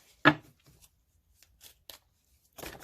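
Tarot cards are shuffled in a quiet room with soft riffles and taps: one sharp burst at the start, scattered light flicks, then a short rustling run at the end.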